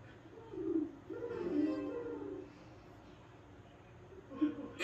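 A person imitates a bird call with low, faint cooing hoots like a dove, two longer ones early on and a short one near the end.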